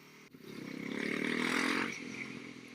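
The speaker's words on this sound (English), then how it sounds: "So like every other BMW gearbox, it's pretty clunky." A BMW G650X Country motorcycle engine grunts and rises briefly in pitch as the clunky gearbox shifts, a short, close mechanical whine with a faint clunk near the start.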